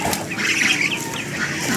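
Chickens in backyard coops battered by Typhoon Tino give off a steady, busy stretch of clucking and squawking, close and fairly loud, with wind-like noise underneath and no talk.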